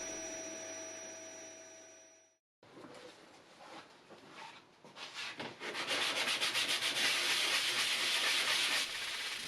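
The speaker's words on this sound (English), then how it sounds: "Then sanding back the filler to make a hopefully invisible repair." Continuous abrasive rubbing of sanding back wood filler, growing louder and more rhythmic with rapid back-and-forth strokes, heard alone up close.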